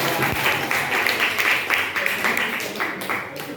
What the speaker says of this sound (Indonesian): bisa kita kasih aplaus untuk kelompok